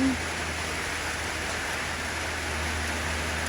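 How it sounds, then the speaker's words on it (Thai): Steady, dense rain falls outdoors where an elephant stands, a continuous close hiss that holds evenly throughout with no talk. "ฝนก็เริ่มซาซาแล้วนะคะ"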